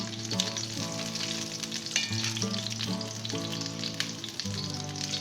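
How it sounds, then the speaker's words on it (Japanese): Fish skin fries in olive oil in a pan for an Italian fish dish, giving a loud, close, steady sizzle and crackle that continues throughout with no talk. "で魚を焼いていきます。 でちょっと皮を焼きます。"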